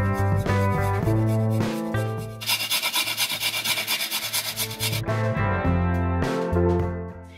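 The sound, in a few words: grating ginger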